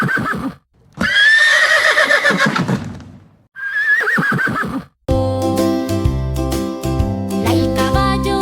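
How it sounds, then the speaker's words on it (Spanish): A horse whinnies twice, loud and close: a long shrill neigh followed by a shorter one, before music starts. "Escucha cómo relincha el caballo."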